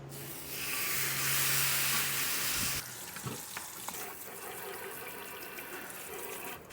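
Beef sizzling in beef tallow on a griddle set to low, a loud, dense, steady hiss for about three seconds that then drops to a quieter, patchier crackle.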